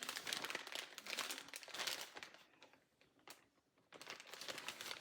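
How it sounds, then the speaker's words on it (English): A 0.5-gallon reusable plastic produce storage bag is zipped shut, giving close crinkling and rapid clicking of the plastic zipper track, with a brief quieter pause midway before the crackling resumes. "Zip it all back up."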